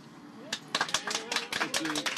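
Applause from activists celebrating in Alsace, scattered uneven claps that grow denser partway through, moderately faint, with voices mixed in.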